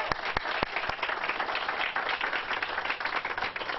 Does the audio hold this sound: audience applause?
yes